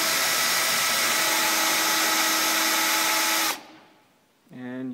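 A drill bit working out a corroded screw, a loud steady whining drone for about three and a half seconds that cuts off abruptly, followed by quiet and then a brief different tonal sound.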